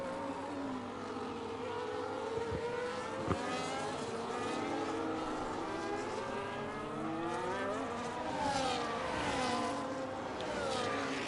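F1 race cars streaming past in a line on the Singapore street circuit in an F1 game, their engines whining and sweeping in pitch as they pass, a steady blend of several cars under a commentator's voice.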